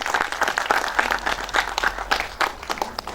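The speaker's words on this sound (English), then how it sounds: "Give him a big round of applause." An audience at the IFFI 2019 film festival in Goa applauds its festival director, with dense, loud clapping from many hands filling the hall without a pause.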